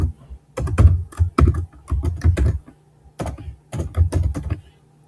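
Fingers type an email address on a computer keyboard in close, crisp clusters of keystrokes, two quick runs separated by a short pause, with no talking.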